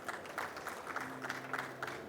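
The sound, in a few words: audience applause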